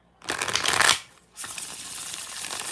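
Tarot cards being shuffled by hand, two bursts of crisp riffling with a short pause between, close and fairly loud with no talking.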